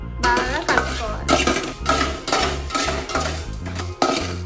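Spices (pepper, cinnamon and ginger) being stirred in a metal pan for an amla chutney, giving a series of close, sharp clinks and scrapes in an uneven rhythm.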